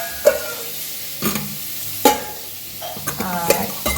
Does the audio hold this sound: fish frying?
yes